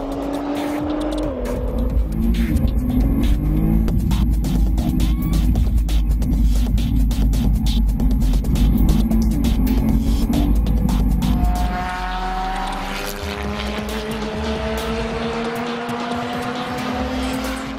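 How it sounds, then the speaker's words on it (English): Time Attack Subaru STI race car lapping Portland International Raceway, its engine roaring loud and steady with rising and falling revs through gear changes, tire squeal mixed in, no talk. "some lucky fans sat shotgun for the hot laps in the Time Attack Subaru STI"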